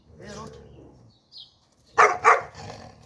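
Guard dog in protection training gives two loud, sharp barks close by, following a stretch of someone talking and a brief faint chirp.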